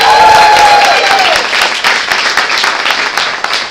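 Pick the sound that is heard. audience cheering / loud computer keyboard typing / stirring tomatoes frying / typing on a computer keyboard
audience cheering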